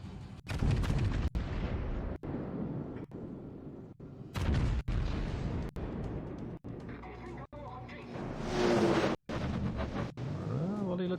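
Naval guns firing volleys in a warship video game, with repeated heavy booms and rumbling blasts recurring through the clip, loud and close.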